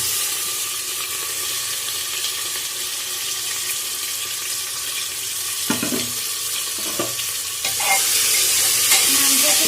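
Meat fries with onions and spices in a pan, giving a continuous loud sizzle with a few brief scrapes of stirring and a brighter hiss rising near the end.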